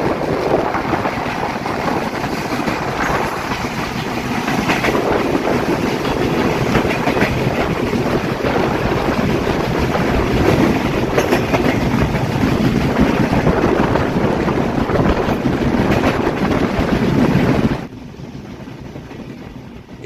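Chilahati Express passenger train running through Raninagar railway station, a loud continuous rumble and rattle of wheels with wind buffeting, steady for most of the stretch before dropping off abruptly near the end.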